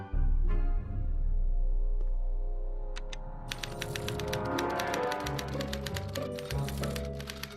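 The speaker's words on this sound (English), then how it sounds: "What's this typewriter do again?" Typewriter in the Back to the Future video game, with a string of rapid keystroke clicks and clacks starting about halfway through over a steady low hum of game ambience.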